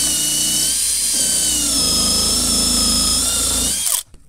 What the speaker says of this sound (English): So now I'm pretty much going to just pretty much drill.